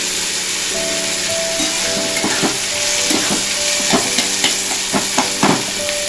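Fresh pigeon pea beans (lilva) sizzle in hot oil tempered with cumin and asafoetida, a steady frying hiss broken by repeated scrapes and taps of a spoon stirring in the pan, with no talking.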